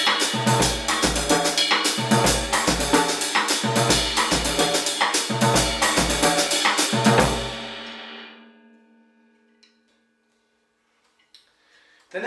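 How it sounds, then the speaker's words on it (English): A drum kit plays a rolling Afro-Cuban nanigo pattern in 6/8 with evenly grouped, accented hits. It is close and solo, then stops and rings out into near silence. "This is a 6/8 Afro-Cuban pattern, and it sounds like this."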